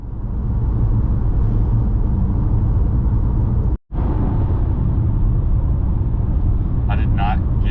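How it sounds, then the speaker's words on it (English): A car drives home along a road, and a loud, continuous low rumble of road and engine noise fills the cabin, broken by a brief dropout, with faint voices near the end. "Here's a montage of a drive home."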